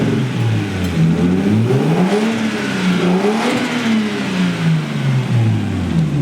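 A turbocharged RB20 engine in a Nissan S13 revs up and down repeatedly, pitch rising and falling in smooth sweeps, close and fairly loud with a whirring tone.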